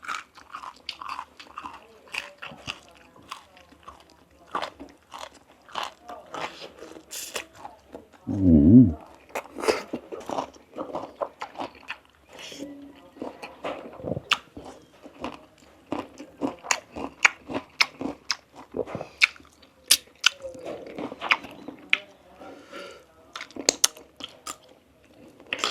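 Someone eating spicy catfish curry with rice: close, repeated chewing and crunchy bites with lip smacks and a loud thump midway, scattered irregularly throughout, with some talking now and then.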